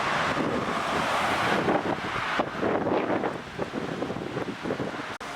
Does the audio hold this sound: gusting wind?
yes